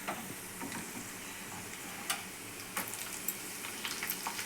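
Chana dal, peanuts, mustard seeds, dried red chilies and green chilies frying in oil, a faint, quiet sizzle with scattered small pops and ticks of seeds bursting, nearby and without talk.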